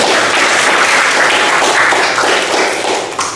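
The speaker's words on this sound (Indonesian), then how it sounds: "Kita kasih aplaus dulu ya" A classroom group claps steadily for a student, giving dense, continuous applause that fades slightly toward the end.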